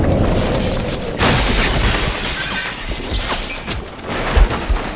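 A bomb detonates in a TV hospital drama, giving a loud, dense, rumbling boom with crashing debris that stays heavy throughout, overlapped by a few later thuds.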